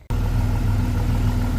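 A Jeep XJ engine catches abruptly and settles straight into a steady, low, rhythmic idle. The rumble stays close and even, with no voices.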